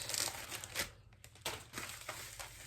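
Close, quiet crinkling and tearing of packaging by hand, in several short irregular rips and rustles.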